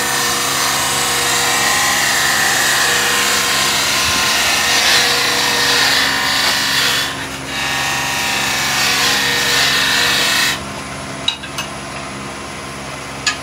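Steady whirring of a wood lathe as a finishing cut is taken on the curve of a raised bowl, loud and continuous with a dip partway through, then stopping near the end with a few faint clicks.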